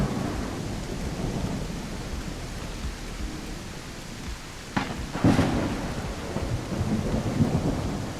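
Steady rain hiss fills a thunderstorm in a dinosaur survival game as a Carnotaurus, with a sharp thunder crack partway through followed by rumbling, loud and enveloping, no voices.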